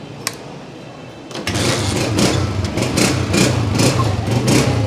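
A Honda 125 motorcycle engine, a 2017 model, idles close by with a steady, throbbing mechanical hum that picks up and grows louder after a quiet start.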